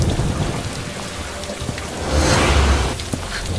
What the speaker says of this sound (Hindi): बारिश की बूंदें तेजी से गिर रही थीं।